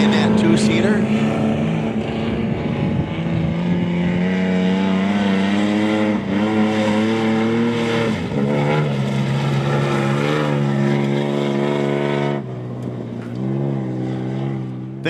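An off-road race vehicle engine runs during the NORRA Baja rally, a loud, steady engine note with rising and falling pitch that dips near the end, while a commentator talks over it.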